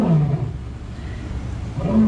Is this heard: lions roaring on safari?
yes